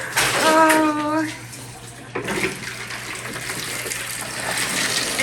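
Water gushing from a tap into a bathtub in a homestead house during a winter storm, a steady loud rush, with a brief voice near the start.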